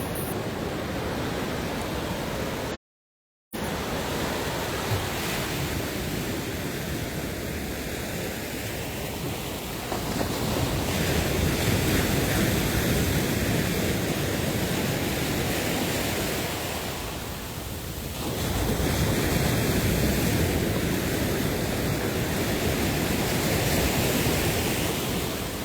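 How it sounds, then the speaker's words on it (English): Ocean waves washing ashore at Welches Beach, Barbados, a steady broadband roar of surf with gentle swells, heard alone with wind buffeting the microphone and a brief dropout early on. "We'll sign out now with a 20-second view of Welches Beach."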